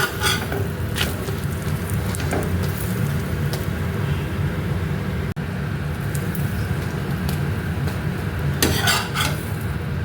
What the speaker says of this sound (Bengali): আর আমি কিন্তু পরোটাগুলি ভাজতে শুরু করে দিয়েছি